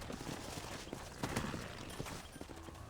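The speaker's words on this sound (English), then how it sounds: "Hit your horse and wait for me by the stable." Horse hooves clopping at a quick rhythmic pace in the Red Dead Redemption video game, faint and fairly close over a soft background wash.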